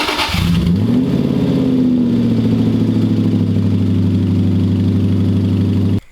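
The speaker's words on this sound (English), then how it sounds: "give a cold start to the Aston, pull that outside" An Aston Martin fitted with a modified exhaust cold-starts with a short cranking burst, then catches and settles into a loud, steady, slightly elevated idle that holds until it is cut off abruptly.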